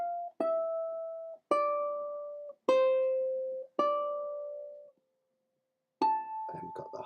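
A ukulele plays a slow melody alone in a pendulum alternating-thumb lesson, five single plucked notes that ring out and decay cleanly, a pause, then a sixth note followed by brief strumming.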